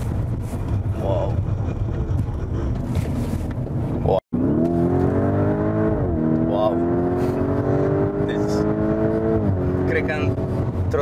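A car accelerating hard from standstill toward 70 km/h, its engine note climbing steadily through rising harmonics with a brief gear-change dip, loud and close under wind buffeting.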